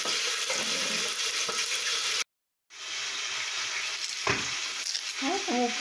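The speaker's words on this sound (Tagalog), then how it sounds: "pumuputok na yung ano, yung bangos" Milkfish (bangus) frying in hot oil in a home kitchen, a steady dense sizzle with scattered sharp pops, broken by a brief silent gap before the crackle resumes.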